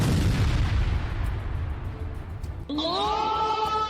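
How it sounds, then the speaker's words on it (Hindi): Bomb blast from an Israeli drone strike on a moving target, a heavy close boom that rumbles and fades, followed by a higher tonal sound like a voice or siren. "आसमान से बम गिरा और मूविंग टारगेट स्वाहा हो गया।"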